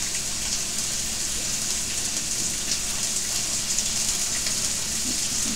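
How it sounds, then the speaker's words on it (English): Lamb chops sear in a hot pan, giving a loud, steady sizzle and crackle that holds without a break throughout, up close and unaccompanied. "let the other side sear"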